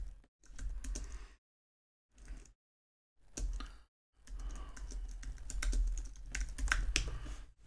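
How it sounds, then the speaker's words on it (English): Typing on a computer keyboard comes in close, quick bursts of clicking keys separated by short silent pauses, with no talking. "Description, I'll just type in a quick description here."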